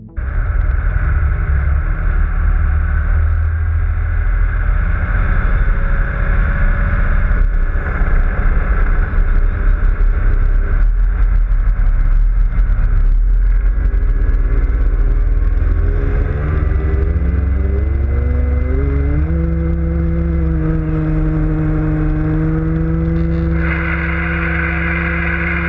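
A motorboat towing parasailers off the coast of Greece: a loud, continuous engine roar with wind buffeting, whose pitch climbs in steps toward the end as the boat speeds up.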